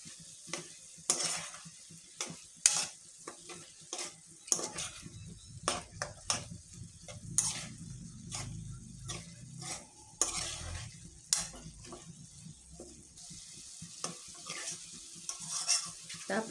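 Pork cooking in oyster sauce sizzles in a pan as a spatula stirs and clatters against the metal in irregular scrapes and taps, fairly quiet and close, with no talking.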